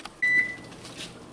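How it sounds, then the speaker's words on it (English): Kitchen timer sounding once, a single steady electronic beep lasting about a quarter second, clear and near, ringing out while homemade barbecue sauce is being processed, with quiet kitchen background around it. "there goes the timer"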